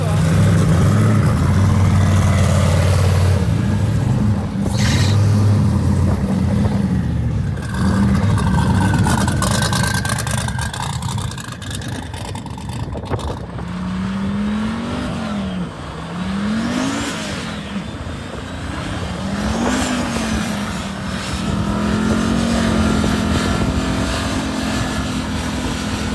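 A performance car's engine fires up outdoors and revs repeatedly in rising and falling sweeps as it pulls away, loud over a steady rumble, with brief talk nearby.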